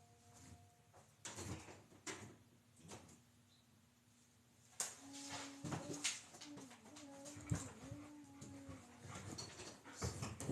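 A puppy indoors gives a few scattered barks and yelps amid household thumps and shuffling, fairly quiet with some louder sharp bursts later.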